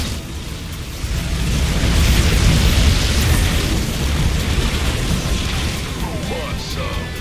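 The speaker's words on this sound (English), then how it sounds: "I'm sending an airstrike now." Banshee airstrike explosions in the StarCraft 2 co-op mission Dead of Night, a dense roar of overlapping blasts and crashing booms that swells after a second and stays loud, with game voices underneath.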